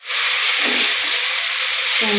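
Onion paste dropped into hot oil with dried red chilli, bay leaf and panch phoron, giving a loud, close, continuous sizzle and hiss that bursts in at the start and holds steady.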